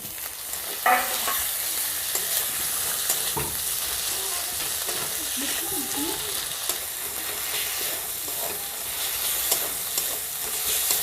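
Onion, garlic, ginger and chopped tomato fry in oil, a steady close sizzle broken by occasional scrapes and stirring knocks of a spoon in the pan, with no talk.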